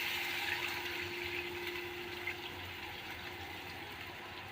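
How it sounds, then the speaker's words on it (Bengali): Homemade coconut milk pours into a simmering prawn curry in a pot, giving a soft, continuous liquid splash and gurgle close by that eases off slightly toward the end. "এই যে 1 বাটি যে দুধ বের করে রেখেছিলাম না নারকেল থেকে, ওই দুধটা দিয়ে দেবো"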